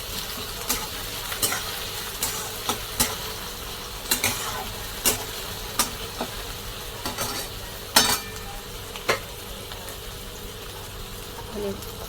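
Onions and tomatoes fry in a pan with a continuous sizzle while a spoon stirs them, knocking against the pan in regular, distinct taps every second or so.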